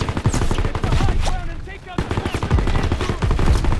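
Anti-tank guns and small-arms fire crack in dense, overlapping bursts in the Call of Duty WWII video game, a loud continuous fusillade with shouted voices mixed into the battle.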